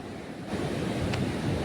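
Sea surf washes steadily around a seaside temple, a continuous broad roar of waves rising slightly after the first half second, with wind buffeting the microphone.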